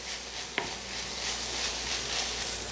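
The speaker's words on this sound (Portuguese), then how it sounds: "Agora eu vou misturar bem com a carne, vou ficar mexendo até ele refogar" A spoon stirs ground beef with sautéing garlic and onion in a pan, giving a steady soft sizzle with one sharp clink of the utensil against the pan near the start.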